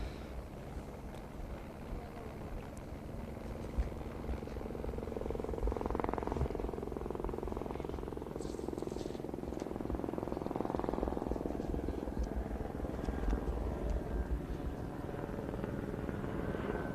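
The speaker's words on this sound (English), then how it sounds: "I can hear the helicopter flying above us." A helicopter flying overhead at a rally stage in the Azores, a faint steady whirring drone that swells slightly midway and hangs in the background.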